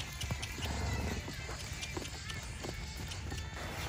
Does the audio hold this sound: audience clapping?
no